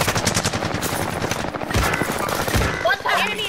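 Loud, rapid machine-gun fire from a first-person shooter video game, with bursts crackling continuously for the whole stretch.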